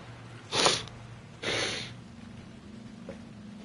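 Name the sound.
sniffling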